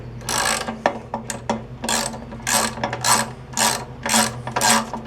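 A hand ratchet backs out the bolts holding the fuel tank on an old Briggs and Stratton engine. Clicking bursts repeat in an even rhythm, close and loud, with short pauses between strokes.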